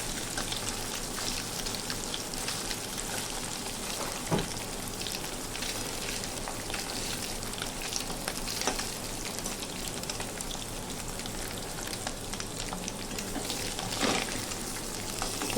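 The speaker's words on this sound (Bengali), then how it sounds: "তো সবগুলো পনির আমার ভাজা হয়ে গেছে" Paneer cubes fry in oil in a kadai, giving a steady, dense crackling sizzle that runs evenly throughout with scattered small pops, close and moderately loud, with no talking.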